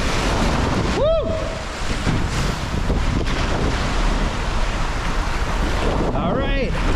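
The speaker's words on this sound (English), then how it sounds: "So you get real wet there when it sprays your back." Water spraying and splashing across riders on a water coaster, a steady loud wash of spray and rushing water with wind buffeting the microphone and short whoops of excited riders.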